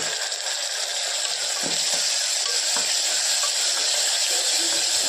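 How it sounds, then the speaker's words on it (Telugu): Onions frying in a pan on the stove make a steady, close, even sizzle and hiss that runs without a break, with a few faint stirring knocks and no talking. "ఆనియన్స్ బాగా వేగాయి కదా."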